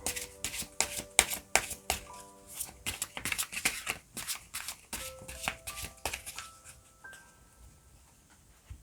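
Tarot cards are shuffled by hand in a rapid series of crisp riffling snaps and soft slaps, close and clear, in bursts that slow and fade toward the end.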